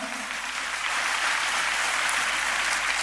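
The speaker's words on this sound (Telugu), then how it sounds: "ఒక్కసారి చప్పట్లు కొడతారా" An audience breaks into applause, starting a little softer and swelling into steady, dense clapping that fills the room and continues to the end without voices over it.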